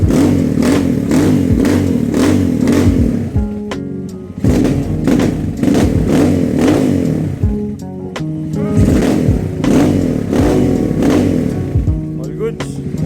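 A Honda XR200 motorcycle engine with a rebuilt carburetor runs close by, loud and pulsing with repeated blips of throttle and a clattering idle in between, while someone talks over it.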